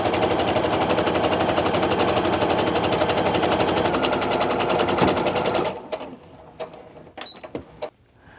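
A sewing machine runs steadily, stitching pieced diamond quilt fabric straight off the end of the seam. The rapid needle chatter holds loud and even for about six seconds, then stops, leaving a few light clicks and handling noises.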